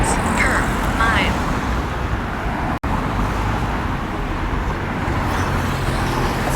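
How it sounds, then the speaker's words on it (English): Steady road traffic from morning commuters coming off the east bank, a continuous broadband rumble of passing cars and heavier vehicles heard from the roadside during a run, with no talk over it. "That's traffic coming off of the east bank."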